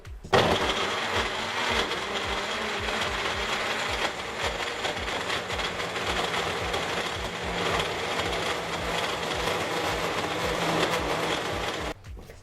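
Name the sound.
Magic Bullet blender mixing shower gel ingredients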